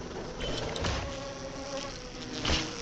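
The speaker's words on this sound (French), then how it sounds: "Oh la grosse bête, oh le gros moustique." Giant mosquito enemy in the Tails of Iron video game, a continuous insect-like buzzing drone with a few louder swells and thumps, fairly close and without speech.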